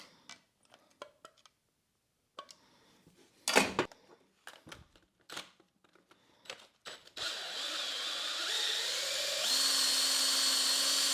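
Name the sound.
Logan lathe running in its gears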